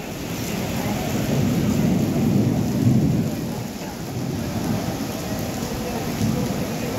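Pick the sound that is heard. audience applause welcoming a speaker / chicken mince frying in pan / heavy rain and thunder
heavy rain and thunder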